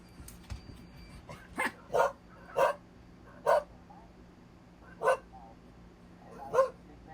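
A voice imitates a dog, giving a string of short, sharp barks spaced irregularly, fairly close with a little background noise.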